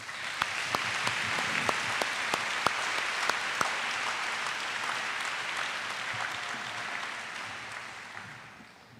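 An audience at a school awards ceremony applauds the award recipients, with steady clapping and a few sharp individual claps standing out early, gradually tapering off toward the end.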